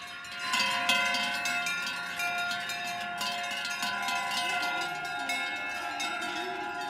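Several cowbells hung on cows clink and clang in an overlapping, irregular pattern, carrying steadily from a moderate distance over a soft outdoor background.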